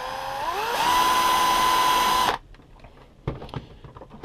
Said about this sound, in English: I'm using a 2mm drill bit at the moment.